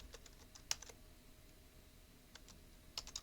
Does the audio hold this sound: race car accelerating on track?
no